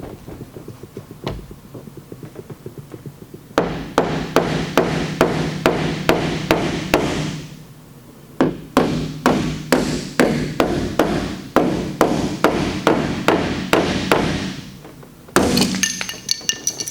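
A hammer taps down high spots on a Toyota RAV4 liftgate in rapid bursts of sharp metallic strikes, each run of evenly spaced blows separated by short pauses, loud and close with no talking.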